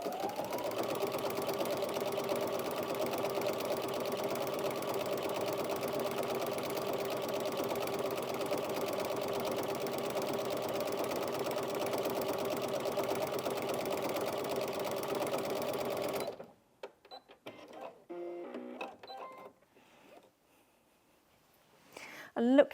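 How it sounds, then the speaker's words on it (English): A Brother Innov-is NV1800Q sewing machine runs a stippling stitch, a steady close mechanical hum with even needle chatter that stops abruptly, followed by a few soft handling sounds. "there's a really nice stippling stitch on this machine"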